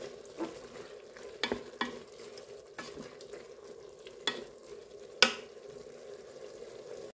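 Roman-style tripe cooking in a pan with white wine and pecorino, a soft continuous sizzle and simmer broken by several sharp stirring scrapes and knocks, close and fairly quiet.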